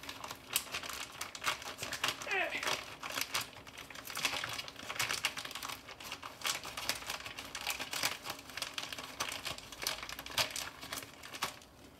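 Food packaging is cut open at close range, giving a busy stream of crinkling plastic, snipping and tearing noises, fairly quiet, with no talking.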